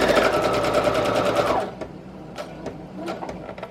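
A sewing machine stitches paper for a handmade journal with a fast, loud, even chatter that stops after about a second and a half, followed by a few scattered light taps and clicks.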